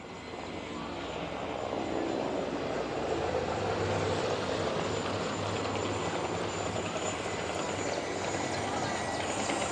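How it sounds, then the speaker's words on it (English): A Mi-8 HIP multi-role transport helicopter at a military training ceremony, its rotor and engine drone steady and fairly distant, building slightly and continuing throughout. "it will pick up the multi-role transport helicopter, the Mi-8 HIP"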